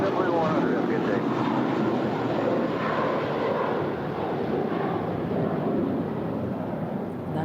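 JetBlue 100, an airliner leaving Los Angeles International for Fort Lauderdale, climbs out with a sustained, rumbling jet roar that fades slightly toward the end, with a voice talking over it.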